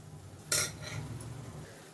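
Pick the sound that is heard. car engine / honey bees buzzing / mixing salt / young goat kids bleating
mixing salt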